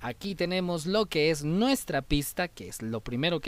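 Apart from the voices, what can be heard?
No distinct noise like a dog, phone or traffic.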